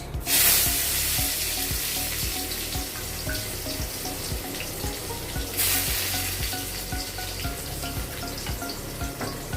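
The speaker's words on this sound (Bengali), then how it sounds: "এবার তেলের মধ্যে একটু কালো জিরে ফোড়ন দিয়ে দিচ্ছি, আর দিয়ে দেবো কুচিয়ে রাখা পেঁয়াজ।" Nigella seeds and chopped onion hit hot mustard oil, a loud burst of sizzle at the start, then steady frying crackle with rhythmic stirring scrapes and a second flare of hiss partway through.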